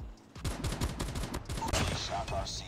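An S36 rifle in Call of Duty Mobile fires a quick string of sharp single shots at a close, uneven rhythm, with faint game sounds behind them.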